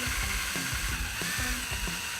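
A power drill running on slow speed as it bores through a metal skateboard bracket, giving a steady, loud mechanical whir with a rhythmic ratcheting chatter, close up and alone.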